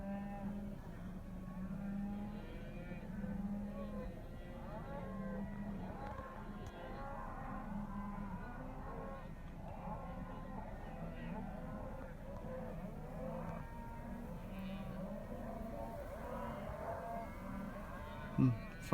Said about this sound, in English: You get to see a miniature cattle drive right here in front of me.